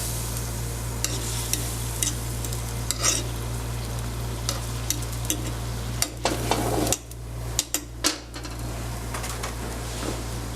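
Shrimp in marinara sauce with olive oil and sliced garlic simmering in a pan, a steady close sizzle with occasional sharp clicks and scrapes of a utensil, and no talking.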